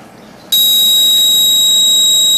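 A loud, piercing continuous alarm beep switches on abruptly from an outlet controlled by a Raspberry Pi and holds steady to the end, with no talking.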